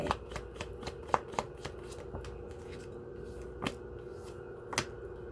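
Tarot cards shuffled by hand, a stream of quick papery riffles and soft slaps with a few sharper card snaps standing out, close and alone over a steady faint room hum.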